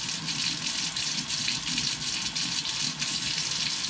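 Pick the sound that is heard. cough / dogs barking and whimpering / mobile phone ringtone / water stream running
water stream running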